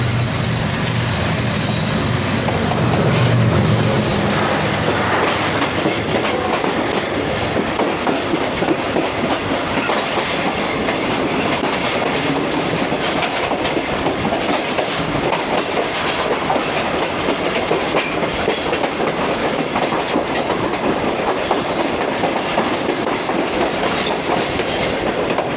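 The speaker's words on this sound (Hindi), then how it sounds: "तो ये थी 5 up green line GU40 locomotive के साथ" The 5 Up Green Line passenger train, hauled by a GU40 locomotive, pulls out of Sadiqabad railway station, loud and close, with steady rumble and clickety-clack of wheels over rail joints running throughout, plus faint squeals.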